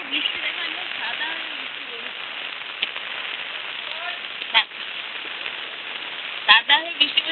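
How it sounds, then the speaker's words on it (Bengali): Steady heavy rain on a monsoon day, a continuous broadband hiss from start to finish with a few brief louder splashes near the end and faint voices now and then underneath. "সাদা হয়ে বৃষ্টি পড়ছে"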